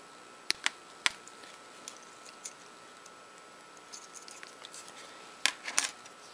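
Cutters snipping thin lead wires from a thermocouple and heater element on a DIY soldering station, a few sharp isolated clicks spread across the clip, close and crisp over a quiet background, with a quick cluster of snips near the end.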